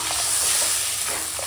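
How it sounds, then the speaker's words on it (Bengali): Mustard and green chilli paste curry gravy cooks in a pan, giving a steady, even sizzling hiss with faint soft bubbling, close and continuous with no voices. "ঝোলটা রান্না করে নিচ্ছি।"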